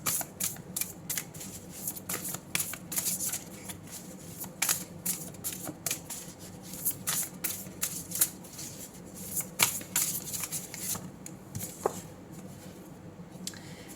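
Tarot cards are shuffled and drawn close up, with a steady run of crisp riffling flicks and light slaps and no voice.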